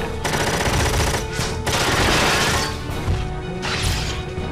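Rapid bursts of machine-gun fire in the video game Front Mission 4 come in loud, dense volleys with short gaps between them, close and harsh, with no talking.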